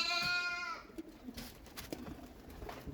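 Pet pigeons being fed coo faintly in a brief stretch, opening with a short bleating call from a nearby goat before low murmuring coos and light rustles.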